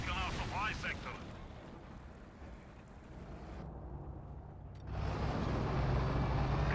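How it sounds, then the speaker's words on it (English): Incendiary artillery barrage in the strategy game Company of Heroes 2: loud booming impacts and rumbling fire, with a dense burst of blasts swelling near the end. "Incendiary barrage here to displace these units"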